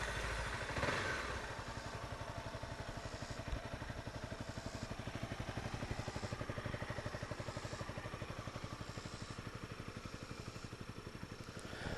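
A Honda CBR250R ABS motorcycle engine runs steadily close by with a fast, even idle chatter and a faint whirring fan, no voices.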